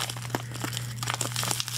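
Padded envelope packaging crinkles and crunches as it is handled, with a steady run of crackling rustles over a constant low hum and no voices.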